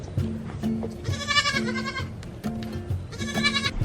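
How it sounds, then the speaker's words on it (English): A young goat bleats repeatedly on a farm, two loud, wavering cries close by with quieter shuffling and small noises between them. "You are the funniest little goat."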